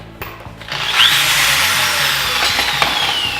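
A hammer drill bores steadily into a post for a railing build, a loud, continuous whining grind that holds its pitch for several seconds after starting up, close and with no voices over it.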